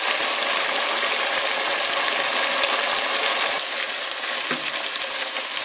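Meat stew sizzles loudly in a pan right after brandy goes in, a dense continuous frying hiss with a brief stirring scrape near the end and no talking.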